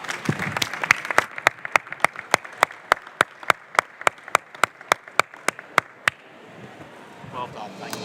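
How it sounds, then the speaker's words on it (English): A conference audience claps at the close of an EU energy panel in a long run of crisp, evenly spaced claps that stops abruptly and leaves a quiet room murmur. "please give a warm round of applause to everybody who's taken part."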